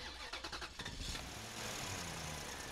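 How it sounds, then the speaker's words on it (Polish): Car engine cranking as it starts, a rapid stuttering churn for about a second before catching into a steady, loud running rumble, heard alone at close range. "odpalanie silnika samochodu, bo takiego dźwięku nie nagraliście na planie."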